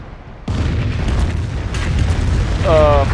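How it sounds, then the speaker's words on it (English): Heavy booming impact from a Jagdpanther barrage in Company of Heroes, a sudden loud blast at the start followed by rumbling explosions and a second crack, with a commentator speaking over it. "Jagdpanther launching a barrage and pretty much completely missing"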